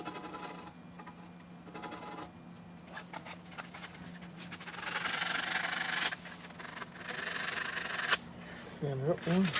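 Steady rubbing and rasping of sanding on a 2019 Ford F150 brake rotor, close and moderately loud, with a continuous scratchy texture that intensifies midway and ends with a brief squeak.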